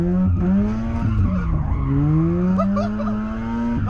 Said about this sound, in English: a little burnout, you said